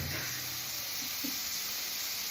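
Lamb kofta meatballs browning in a hot pan, giving a continuous broad hiss and sizzle that stays fairly loud and even throughout.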